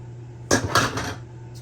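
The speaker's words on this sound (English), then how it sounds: "melt it down using a pot and a bowl" A spoon scrapes and clinks around a bowl set over a pot while melting chocolate for homemade chocolate bark fudge, a short burst of clattering strokes followed by quiet.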